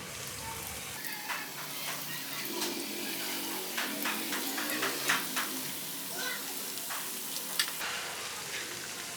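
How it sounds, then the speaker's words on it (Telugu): Potato cutlets placed one by one into hot oil in a pan give a soft, steady sizzle with scattered small crackles and pops, fairly quiet and close. "నూనె వేడెక్కిన తర్వాత వీటిని ఒక్కొక్కటిగా వేసుకుందాం."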